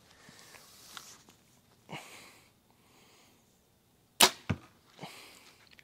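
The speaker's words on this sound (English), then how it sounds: "I can hear just by how the bow's shooting that something's off." A budget bow costing under $150 shoots heavy 30-inch arrows: a sharp, loud release snaps near the listener, followed quickly by a second crack, with softer scuffs and handling noise before and after.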